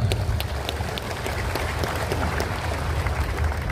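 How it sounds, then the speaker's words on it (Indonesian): A crowd at a morning assembly of Papua provincial government staff claps in a steady, moderately loud round of applause, with a low rumble under it. "tepuk tangan dulu semua buat kita"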